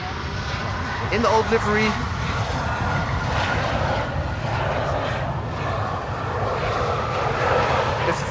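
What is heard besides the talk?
Boeing 747 four-engine jet passing overhead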